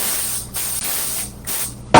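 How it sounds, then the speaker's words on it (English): Short bursts of aerosol cooking spray hiss against a pan before cooking quinoa, a few quick sprays with brief pauses, close and fairly loud. "I'm spraying that because quinoa tends to stick a"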